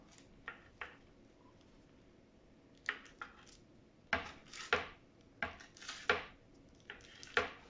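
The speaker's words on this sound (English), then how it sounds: "And then you're going to cut it into 12 pieces." A knife cuts a seam-side-down vegan sausage roll into twelve pieces, making a series of sharp, close thuds on the board, sparse at first then coming in quicker bursts, with no talking.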